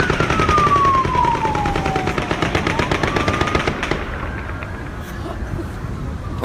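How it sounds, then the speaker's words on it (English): Rapid automatic gunfire rattles in a dense, continuous burst from a distance, the shots blurring into a steady roar for several seconds with a descending tone sweeping underneath, then thinning toward the end. "At 9:49, you only hear 50 shots."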